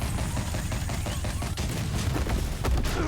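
Rapid Tommy gun fire in Batman: The Telltale Series, a dense continuous rattle of shots with booming low end running throughout, loud and close.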